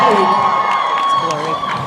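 A hometown convention crowd at a Supernatural fan event in Vancouver cheering loudly, a dense roar of shouts and whoops filling the room, with voices mixed in.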